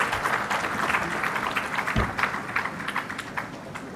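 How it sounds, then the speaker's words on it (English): A conference audience applauds for a speaker at a defence conclave, a dense, even patter of many hands clapping throughout with no voice over it. "Can I have a round of applause?"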